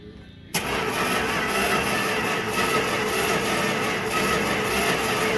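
A 1964 Plymouth Belvedere's 318 V8 with a smashed, broken exhaust catches abruptly after a brief quiet moment, then settles into a loud, steady, rough idle that keeps going without pause.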